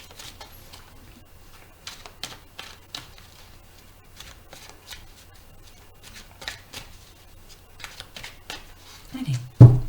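Oracle cards are shuffled and cut by hand in a quiet room, giving a series of soft riffling flicks and taps in irregular bursts, with a brief louder handling noise at the end.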